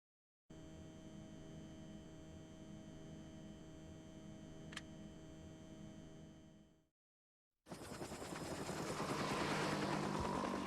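A helicopter flies in the Parasite Eve video game as a steady droning rotor hum at moderate level. It cuts out briefly, then returns as a rougher, noisier whoosh that swells toward the end.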